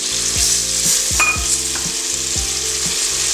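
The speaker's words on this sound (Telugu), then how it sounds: "వేసాక ఇవి కొద్దిగా ఆయిల్లో ఫ్రై కావాలి." Vegetables for sambar fry in hot oil with a loud, steady sizzle, broken by repeated stirring strokes and a faint utensil clink.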